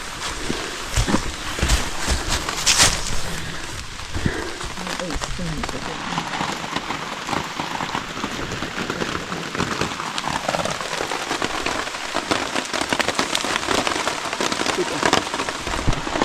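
Rain falls on a tarp in a forest in Linville Gorge, a dense, loud, close patter that runs steadily throughout.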